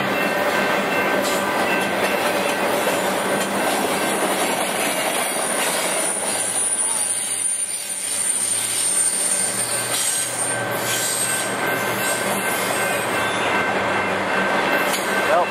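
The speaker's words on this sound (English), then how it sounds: "Amtrak's coming up on track two over there." Amtrak Crescent passenger train rolling past on a Norfolk Southern line in Mableton, Georgia, with a steady loud rumble of railcars and squealing wheels throughout, close by, with brief faint voices.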